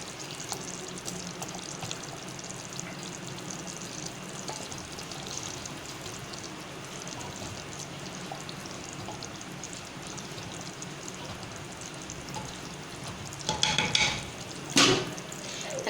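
Chicken malai handi simmers in a covered pot as a steady, soft frying hiss, with a short clatter of utensils near the end.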